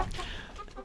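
Hens in a dark coop at night, settled on low perches, giving soft continuous clucks and murmurs, close by and moderately quiet, with no talk over them.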